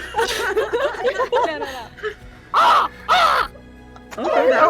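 A person vocally imitates a crow, giving two loud, harsh caws in a row with laughter and chatter around them and talk picking up right after.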